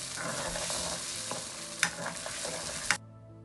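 Glutinous rice pieces cooking in starch water until thick, a steady bubbling sizzle with a couple of sharp utensil knocks, close and alone, cutting off abruptly at the end.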